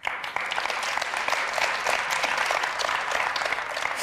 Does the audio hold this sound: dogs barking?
no